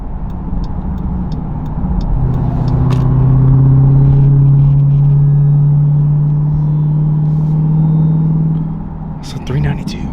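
A 2023 Dodge Durango Hellcat with its muffler deleted, exhaust rumbling loud and close with a steady supercharger whine rising through the middle, while a voice talks briefly over it.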